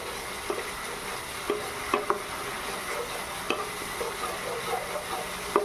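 Spices for a jackfruit kofta curry frying in oil in a pan, a soft steady sizzle broken by repeated sharp spoon scrapes and taps as the masala is stirred, close and alone.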